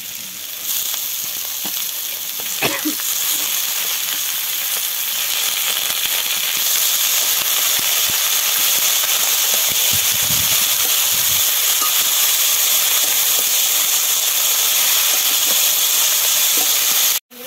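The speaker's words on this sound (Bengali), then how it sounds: "একটু তেল দিয়ে দিচ্ছি। এখন দিয়ে দেবো এই যে বাঁধাকপিগুলো।" Shredded cabbage hits hot oil in a pan, setting off a loud, steady sizzle and hiss that swells after a few seconds and holds throughout, with a sharp clatter near the start and a few brief knocks in the middle.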